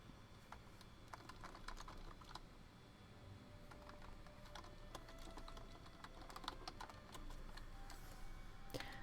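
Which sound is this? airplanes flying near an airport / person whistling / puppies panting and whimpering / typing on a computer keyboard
typing on a computer keyboard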